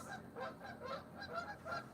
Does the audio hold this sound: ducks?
yes